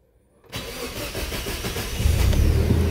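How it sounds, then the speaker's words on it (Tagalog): A Toyota Fortuner's 2TR engine is quiet at first, then cranks and catches after half a second, running steadily and growing louder into a rough, throaty idle by the end. "Then crank na natin yung engine."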